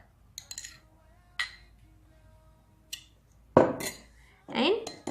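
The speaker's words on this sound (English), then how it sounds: "mix it thoroughly such that the two ingredients mix very well in a very consistent manner" A spoon clinks and scrapes in a bowl while yogurt is mixed with another ingredient for a hair treatment, with sharp, sporadic taps close by and brief quiet gaps between them.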